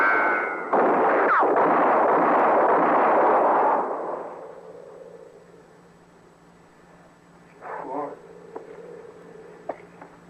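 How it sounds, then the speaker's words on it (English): A single loud gunshot effect from an old-time western radio drama blasts out with a broad burst, then fades into a quiet room tone, followed by a brief shuffle or movement. "Mort, she went and shot me, Mort."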